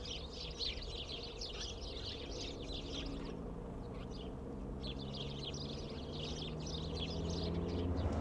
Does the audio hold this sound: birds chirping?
yes